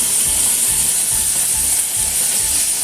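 Ground masala paste for a Malvani bangda fish curry hits hot tempering in a pan and sizzles steadily, with a bright, even hiss and faint rhythmic clatter underneath.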